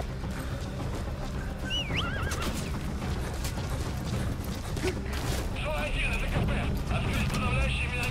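In Metal Gear Solid V, a horse whinnies several times with rising and falling cries while hooves clop and gunfire and game effects rumble beneath, all under a man's speech.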